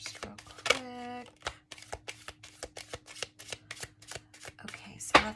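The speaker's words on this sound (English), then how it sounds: "These are already pre-shuffled, but I'm going to shuffle them one more time" A deck of tarot cards is shuffled in a quick run of crisp riffling taps and slaps, close and fairly loud, with brief voice sounds at the start and end.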